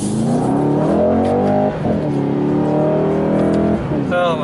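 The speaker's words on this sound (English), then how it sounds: "That exhaust note is just amazing." A 2020 Mercedes-Benz C63 S AMG Coupe with over 500 horsepower, in Sports Plus mode, accelerates hard. The loud exhaust rises in pitch through two quick gear shifts and stays close and dominant throughout.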